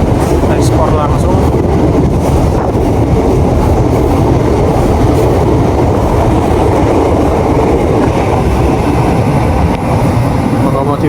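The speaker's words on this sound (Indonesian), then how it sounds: "Ini transit 2 ya, KRL Sifang yang berasal dari Cina" A Chinese-built Sifang KRL electric commuter train rolls past at a transit point, its steady loud rumble and rhythmic clickety-clack of wheels on rail joints filling the whole stretch, with no talk over it.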